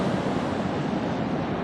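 Ocean waves break on the beach at Mirissa in a steady, loud, continuous roar of surf with some wind rush, with no voices over it.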